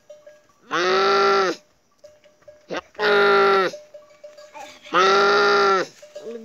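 A person imitates an ox's lowing with three long, loud, drawn-out moos spaced evenly apart, with brief quiet gaps and small sounds between them.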